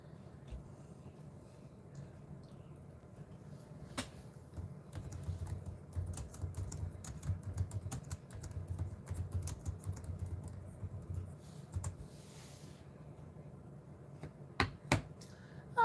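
Quiet clicking of a computer keyboard, a steady patter of soft keystrokes through the middle with a few sharper isolated taps near the start and end, faint and close.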